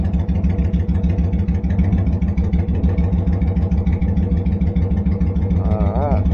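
A motorcycle rides along the curvy Highway 80, its engine droning steadily and loudly up close with a throbbing low rumble and constant wind buffeting throughout.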